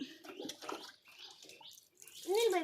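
Water splashes and pours over puppies as children bathe them, a watery rush swelling near the end beneath overlapping voices.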